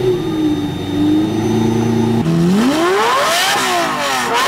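A Lamborghini Murcielago SV engine idles with a low rumble, then revs hard, its pitch sweeping up and falling back in a loud, snarling roar.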